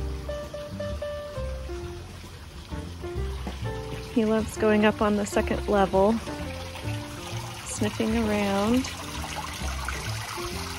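A garden waterfall beside a home path gives a steady, close rush of falling water throughout, with a person talking over it.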